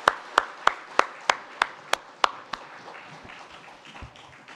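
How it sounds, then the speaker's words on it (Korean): A church congregation gives a short round of clapping during a Sunday service, about nine sharp, loud, evenly spaced claps in unison, then fading into a quieter, scattered patter. "하나님께 영광의 박수 드립니다."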